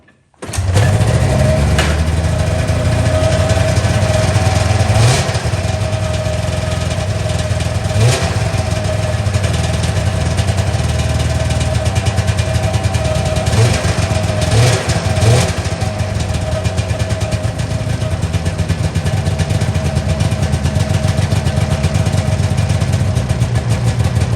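A 1998 Ski-Doo Summit 670 snowmobile engine catches within the first second and then settles into a loud, steady two-stroke idle that runs uninterrupted to the end.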